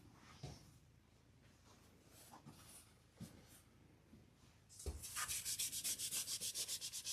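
Filler is rubbed and smoothed by hand over an MDF board: faint, scattered scrapes at first, then a quick run of regular, louder rubbing strokes near the end.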